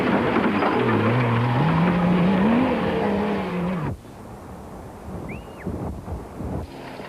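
Toyota Hilux rally trucks racing in the Mmabatho Sun 500 off-road event, a loud engine roar revving and shifting pitch as a truck passes close, then cutting to quieter, distant engine noise and wind.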